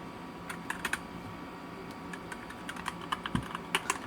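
Fast, light clicking of keys on a DIERYA DK63 wireless RGB mechanical keyboard, close and steady, with small bursts of quicker taps.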